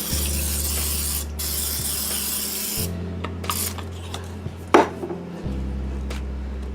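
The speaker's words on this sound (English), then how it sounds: "Got my waffle iron hot, and I'm going to spray it a little bit." Cooking spray hisses from a can onto a hot waffle iron in a home kitchen, a few short close bursts over a steady low appliance hum, followed by light clicks and scrapes.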